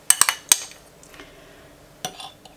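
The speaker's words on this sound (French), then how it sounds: "je vais prendre une cuillère plutôt" A spoon scrapes and clinks against a dish while kiwi is spread into yogurt, with a few sharp taps early on and more near the end, close by with no talk.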